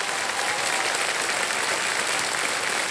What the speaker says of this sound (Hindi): ऑडियंस ने बहुत जोर से ताली बजाई है